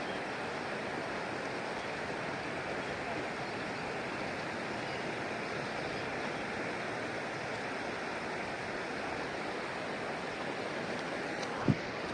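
A river swollen by heavy overnight rain rushes in a steady, dense roar, flowing continuously throughout with no voices, and a single brief knock near the end.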